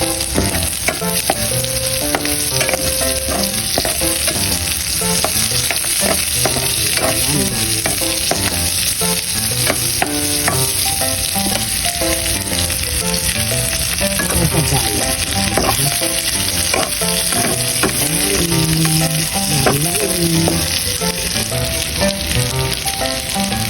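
Onions sautéing in a pan with garlic for a Filipino moringa and chayote stir-fry, a steady close sizzle with frequent scraping and stirring clatter running throughout, no voices.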